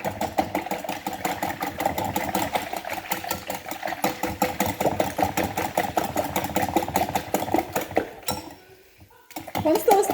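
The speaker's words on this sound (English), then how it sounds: "you're going to whisk it up. You want to break up those yolks" Whisking milk, eggs, salt and pepper in a bowl, a fast steady rattling of whisk against the bowl that runs continuously, pauses briefly near the end, then resumes.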